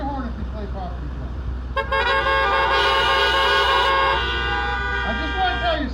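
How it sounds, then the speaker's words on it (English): Car horns blare together at a Trump 2020 rally in Great Falls, Montana, a sustained chorus of honking that swells for a couple of seconds over crowd and amplified talk. "Honk your horn if you play property tax"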